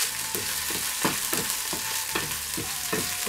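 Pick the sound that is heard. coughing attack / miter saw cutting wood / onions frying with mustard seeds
onions frying with mustard seeds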